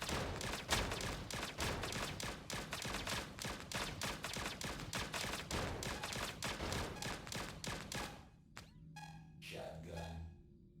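Rapid video game gunfire from a sawed-off shotgun in Berzerk Recharged, a dense rhythmic string of sharp blasts for about eight seconds, then a few scattered shots and electronic game tones.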